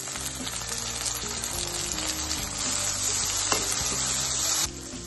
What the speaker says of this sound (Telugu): వేగాయి బ్రౌన్ గా వచ్చాయి ఇప్పుడు తరిగిన టమాటాలు ఒక కప్పు వేసుకోవాలి